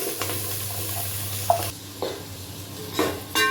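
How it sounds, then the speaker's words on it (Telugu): Chopped onions dropped into hot oil in a pan for a large home-cooked batch, giving a steady close sizzle with stirring scrapes and a few clinks, alone without talk. "ఆయిల్ వేడైంది ఇప్పుడు చిన్నగా కట్ చేసుకున్న ఆనియన్"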